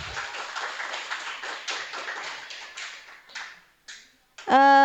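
A workshop audience claps together in dense, lively applause that thins out and fades to a few last claps, before a voice begins speaking at the very end.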